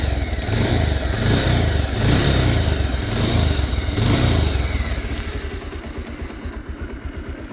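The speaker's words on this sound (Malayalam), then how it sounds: "റേസ് ചെയ്ത് കാണിച്ച്" A 2014 single-owner motorcycle with about 121,500 km on it revs hard several times, its engine rising and falling in loud surges before settling into a pulsing, lumpy idle near the end.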